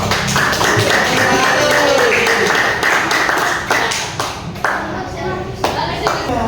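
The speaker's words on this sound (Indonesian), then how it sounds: "Dan beri tepuk tangan untuk semuanya." A group of people clapping hands together, a dense burst of applause that thins out toward the end, with a few voices underneath.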